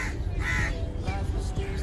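Crows caw in a garden on an island in Sharjah, UAE, with a few harsh calls close by, while voices murmur underneath.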